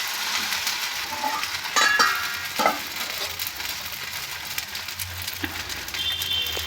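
An onion dosa sizzles steadily on a hot pan just after being flipped, a close, continuous crackle with a few brief scraping touches and no talking.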